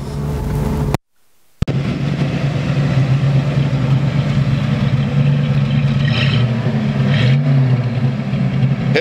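A 1966 Mustang GT350's engine drones steadily as the car drives, its low rumble rising briefly as it accelerates, after a short moment of silence at the start.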